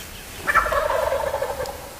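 A single loud wild turkey gobble from a roost in a tree, a short rattling burst that carries clearly over a quiet outdoor background.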